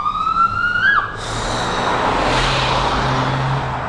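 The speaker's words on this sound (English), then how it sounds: "sirens." An emergency vehicle siren wails loudly nearby with a rising, sweeping tone, then cuts off abruptly, leaving a steady low road and engine rumble.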